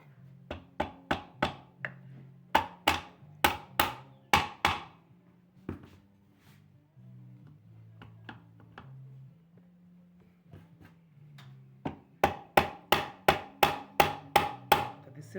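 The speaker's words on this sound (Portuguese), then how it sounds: "Vou pegar o martelo, né?" A hammer drives a part into the washer box of a Brastemp Super Luxo washing machine. Rapid runs of sharp, close strikes are split by a quieter stretch of lighter taps, then a final fast burst of blows.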